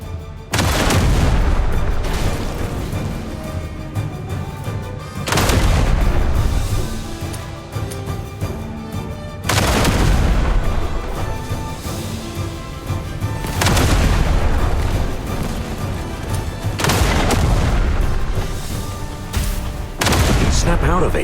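In the Duet Night Abyss video game, heavy gunfire mixes with repeated booming explosions, about five big blasts spaced several seconds apart over sustained shooting, with battle voices and a musical score underneath.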